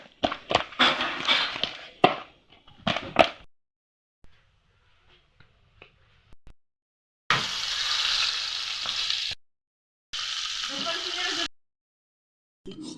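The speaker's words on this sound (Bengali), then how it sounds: "হালকা করে ভেজে নিয়েছি ডিপ করে ভাজিনি কেননা টাটকা ভেটকি মাছ তো ডিপ করে ভাজলে ভালো লাগে না" Fresh bhetki fish frying lightly in a pan gives a steady, close sizzle in two sustained bursts, after a stretch of clattering kitchen sounds and near-silence.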